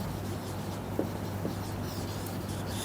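Pen or pencil writing out a physics question on paper: faint soft scratching strokes over a steady low hum, no voices.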